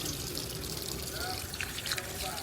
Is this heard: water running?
yes